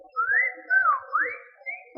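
A man whistles a lively, sliding tune in several rising and falling phrases, clear and close, with brief pauses between them.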